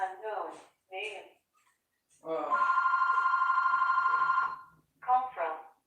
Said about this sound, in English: Hang on, I gotta go get the phone.